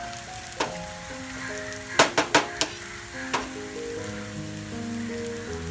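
Red chili powder frying in hot oil for a Kerala parippu lentil curry, a close steady sizzle broken by a short burst of sharp crackles and spits, with a few clinks of a spoon against the pan.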